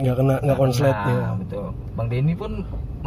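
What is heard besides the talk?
None of the usual background noises is heard.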